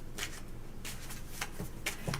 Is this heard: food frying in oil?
no